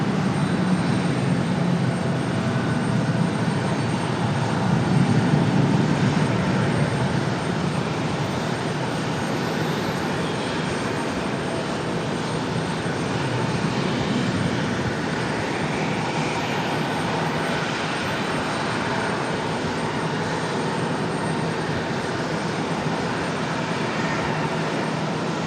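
An airliner takes off from runway 5 left at Raleigh-Durham International Airport, a loud, steady broadband roar that swells slightly early on and holds throughout with no voices.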